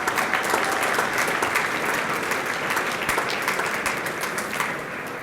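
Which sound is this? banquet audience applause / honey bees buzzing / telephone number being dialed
banquet audience applause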